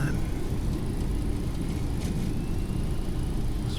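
An airliner rolls out on the runway after touchdown in a flight simulator game, with spoilers, reversers and brakes deployed, producing a loud, continuous engine rumble and whir that holds steady without a break.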